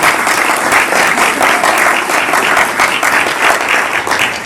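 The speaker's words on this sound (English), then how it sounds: "let's give them a nice round of applause for all that they do for Hernando County" An audience at a crime and fraud prevention training event applauds sheriff's deputies of Hernando County, giving a loud, sustained round of clapping from a large crowd that fills the room steadily throughout.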